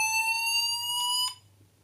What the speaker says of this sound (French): il va activer la sirène